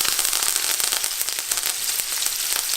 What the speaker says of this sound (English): Now we're going to add our butter and our herbs